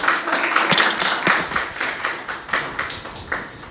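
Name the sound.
audience applause for singer on live broadcast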